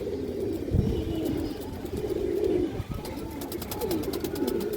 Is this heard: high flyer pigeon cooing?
yes